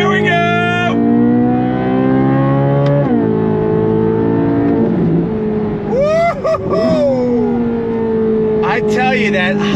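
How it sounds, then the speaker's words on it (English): A high-revving V8 race car engine screams loudly up through the gears, with rising pitch on each pull, sharp drops at the shifts and a brief lift in the middle before it climbs again. "that high revving V8"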